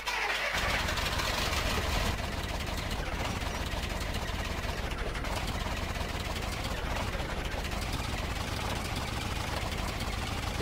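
An old beat-up car engine in the game S.T.A.L.K.E.R. OGSE cranks briefly and then settles into a steady, loud, rough running rumble that continues without a break.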